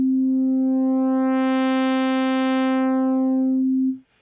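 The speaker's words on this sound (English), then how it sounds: "you'll see that there is a pot which has PD for phase distortion next to it" Phase distortion synth oscillator in the BazilleCM software synthesizer, a steady sustained buzzy tone whose upper harmonics open up and then close back down as the phase distortion amount is swept, alone and loud, ending abruptly.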